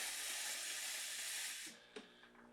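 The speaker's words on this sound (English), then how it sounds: "And you can see it generates pretty good steam pressure." Steam wand of a DeLonghi La Specialista (EC9355) espresso machine hisses loudly and steadily, a broad close-up rush that cuts off sharply after about a second and a half, leaving faint clicks and a soft mechanical hum.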